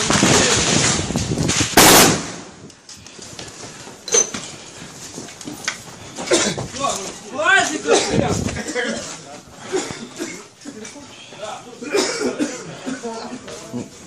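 Wartime gunfire and shelling at the old terminal in Donetsk: a loud, sharp blast early on, then scattered cracks and thuds mixed with coughing and shouting voices nearby.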